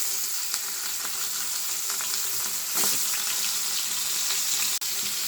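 Koi fish shallow-frying in hot oil, giving a steady close crackling sizzle throughout with a brief louder burst midway and a sharp click near the end; nobody speaks.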